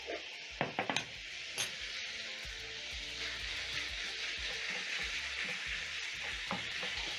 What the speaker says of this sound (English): Continue breaking down the meat as it cooks